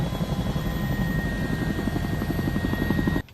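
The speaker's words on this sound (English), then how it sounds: "As these helicopters come in, there's a lot of safety concerns." Medical helicopter descending to land at an accident scene, its rotor thudding loud and steady throughout with rapid blade pulses over a broad engine roar, then cutting off abruptly at the very end.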